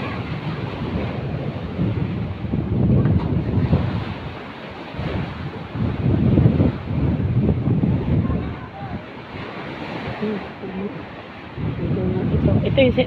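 Rushing river water flows steadily outdoors in Real, Quezon, Philippines, a broad churning wash with gusty wind noise, and a voice speaks faintly underneath.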